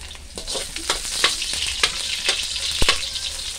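Onions sautéing in a pan for papaitan, a steady close sizzle and crackle with occasional sharper pops and stirring scrapes, no talking.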